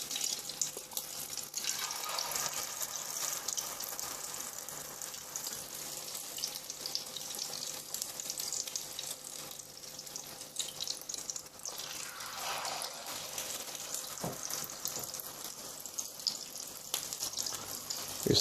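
Chicken shami kababs frying in a pan, a steady soft sizzle with faint crackle running throughout, fairly quiet and without talk.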